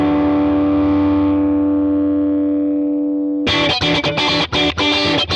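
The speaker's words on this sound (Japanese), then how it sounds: "ブースターはなくてもいい感じの歪みになってるけど、試しに足してもみましょうか" Crunchy distorted electric guitar through a Tone King Imperial MKII Neural DSP amp model with a booster added: a loud sustained ringing chord decays, then sharp, dense strummed chords hit hard and fast.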